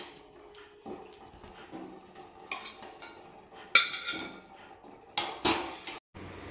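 Boiled cauliflower drained from its cooking water in a home kitchen, with soft pot and utensil clatter followed by two short, loud splashing pours near the end.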